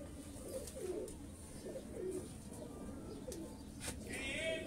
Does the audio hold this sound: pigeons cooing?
yes